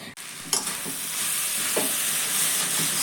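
A spatula scrapes and stirs sweet grated-coconut filling for pitha in a pan as it dries out, giving a steady sizzling hiss with a few soft scraping strokes, close and alone.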